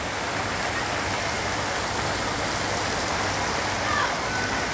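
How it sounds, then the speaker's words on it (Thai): A waterfall at a water park pours down in the middle of a slide, making a steady loud rushing wash of water that continues without a break. "ถ้าตรงกลางมันจะเป็นน้ำตกด้วยจะมีน้ำตกโผล่ลงมาตรงนี้"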